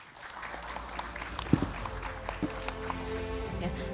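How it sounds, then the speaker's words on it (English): Scattered applause from a conference audience for panelists, a steady wash of clapping with some voices murmuring underneath and a couple of louder thumps. "big applause to the panelists"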